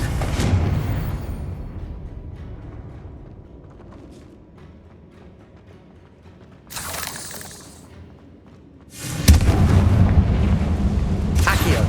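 Confringo fire spell bursts in Hogwarts Legacy, cast at spiders: rumbling booms that swell and fade, with a second heavy blast near the end roaring on as a loud sustained rush.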